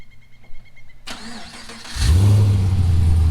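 A Chevrolet SS V8 engine cranks briefly, catches, and settles into a loud, deep, steady idle with a throaty rumble close by.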